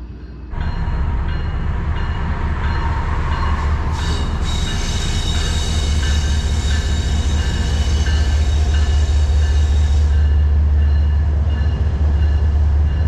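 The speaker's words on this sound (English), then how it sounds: "Here's the train to Calgary coming in." A passenger train bound for Calgary rolls in close by, a loud continuous rumble of rail cars with wheel squeal and steady clatter lasting throughout, no talking.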